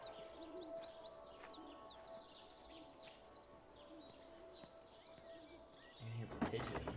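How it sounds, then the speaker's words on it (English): Pigeons coo faintly in the game Everybody's Gone to Rapture, soft calls and chirps scattered over a steady low ambient hum, with a louder rustle near the end. "I hear pigeons."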